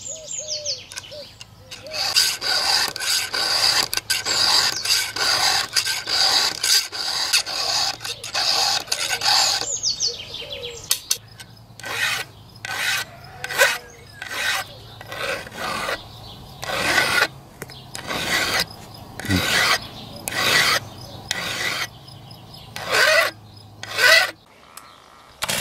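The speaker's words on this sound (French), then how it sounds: "on le relimera du coup avec une lime plate pour définir la bonne épaisseur du copeau" A flat file rasps against a chainsaw's depth limiter in a tree-care workshop, with steady rhythmic back-and-forth strokes, close and loud, settling into separate spaced strokes halfway through.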